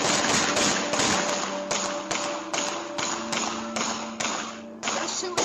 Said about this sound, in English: They're having a shootout.